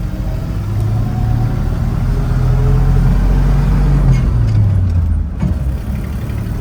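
A 1967 Chevrolet K10 Suburban with a new clutch drives along, its engine and road noise forming a loud, steady, close drone, with a brief dip partway through that may be a gear shift.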